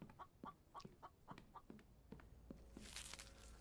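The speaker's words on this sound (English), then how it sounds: "I hear you, chicken" A chicken in the survival game The Infected clucks in a quick run of short, soft, evenly spaced notes, fairly faint and close, with light shuffling steps and no speech.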